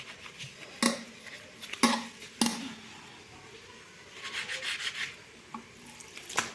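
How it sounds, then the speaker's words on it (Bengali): Close-up scrubbing of a washbasin and tap cleaned with lemon: three sharp knocks against hard ceramic or metal early on, then gritty rubbing and scraping bursts, fairly quiet. "এবার আমি ধুয়ে নেবো ভালো করে"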